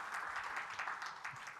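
A conference audience at a multicultural tourism summit claps for a panel, a faint, distant patter of applause lasting a moment.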